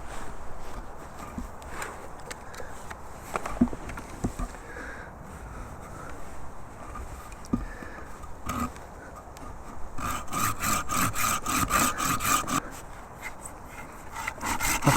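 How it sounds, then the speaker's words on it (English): Hand saw cutting a groove around the circumference of a sweet chestnut handle blank outdoors, with soft irregular rasping strokes that grow into a faster, steadier run of sawing near the end, close and moderately loud. "I've now got my line sawn in, my cut sawn in, all the way around the circumference of this."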